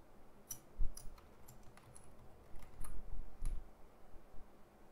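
Mouse clicks during IntelliJ IDEA project setup: a few sharp, quiet clicks spaced irregularly across several seconds over faint room hiss, with no talking.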